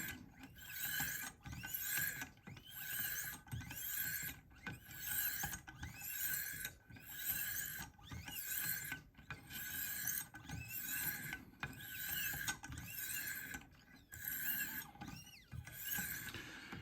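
A straight razor is drawn across fine-grit stones on a Wicked Edge sharpener in regular repeated strokes, each one a faint, rhythmic swish or scrape, heard close and alone with no talking.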